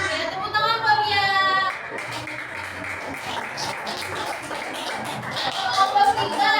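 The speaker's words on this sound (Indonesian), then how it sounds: "tepuk tangan buat dia" A classroom of students claps for a classmate: a few seconds of scattered, moderately loud applause, with voices talking just before and after it.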